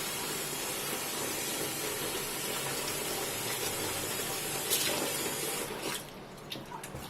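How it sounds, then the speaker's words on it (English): Water pours steadily into a tub with a constant splashing hiss, then the flow cuts off near the end, leaving a few drips and clinks. "I wouldn't be able to tell if the water is running clear or not."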